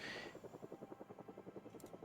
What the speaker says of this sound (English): So I hear a helicopter.